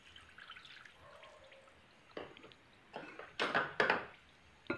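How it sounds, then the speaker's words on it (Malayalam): Water poured into sieved flour for pana halwa, heard as faint trickling and dripping that builds into several louder splashy bursts toward the end, with no talk. "വെള്ളം ഒഴിച്ചിട്ട് ഇപ്പോൾ ഒരു കപ്പ് വെള്ളമാണ് ഒഴിച്ചു കൊടുത്തേക്കുന്നത്"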